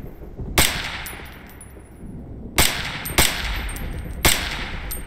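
Four sharp, loud gunshots ring out at uneven intervals from a sniper in the video game Operation Panjshir, each with a short reverberant tail, over a quiet background hum.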